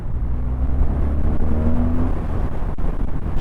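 A 2024 BMW R 12 Cruiser motorcycle pulls in third gear with a steady, close engine drone, and its pitch rises gently as it accelerates along a road.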